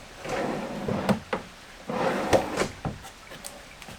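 Wooden drawers on a live edge cabin vanity sliding open and shut several times, with soft rolling slides and sharper thumps as they close, close up with no talk.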